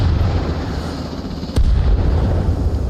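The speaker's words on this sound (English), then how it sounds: "Oh, the mortars are back." Mortar rounds firing in the military shooter Arma Reforger during a 20 vs 20 competitive match, a loud deep boom near the middle standing out over a constant low rumble of battle.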